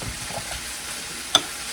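Seasoning mix for a gluten-free Mississippi pot roast stirred in a bowl, soft scraping swirls over a faint sizzle of browning meat, with one sharp clink of the utensil against the rim.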